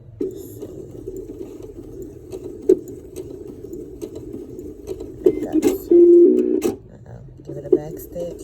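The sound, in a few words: sewing machine back stitching a mask lining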